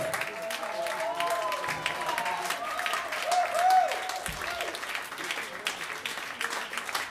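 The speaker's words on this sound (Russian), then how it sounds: "ваши бурные аплодисменты всей команде высококлассных музыкантов!" Enthusiastic audience applause for a band of musicians at a concert, dense sustained clapping from a large crowd that swells slightly in the middle, with lingering tonal music or voices faintly beneath.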